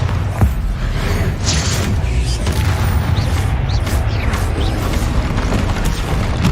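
Explosive Bombarda spell blasts in Hogwarts Legacy on PS5, a dense rumbling boom with creaking, crashing debris over continuous loud combat noise, no clear break.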